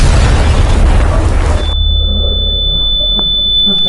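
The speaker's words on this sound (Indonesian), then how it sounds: "tiba-tiba racikan itu meledak dan membuat semua yang ada di tempat itu mati berkeping-keping" Mixed explosives blow up in a film scene: a loud, close boom with heavy rumble lasting about a second and a half, followed by a lingering high ringing tone over a low background drone.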